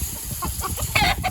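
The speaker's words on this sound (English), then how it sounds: "you can see that they're beautiful roosters" Roosters penned outdoors cluck and call in short bursts, loud and close over a steady background of farm noise.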